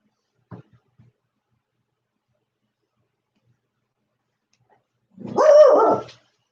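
A dog lets out a single loud, close bark after a long stretch of near silence, preceded only by a faint brief knock.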